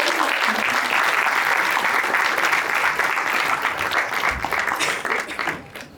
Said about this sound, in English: We must once again applaud all our panelists as well as our moderator, Professor Daswani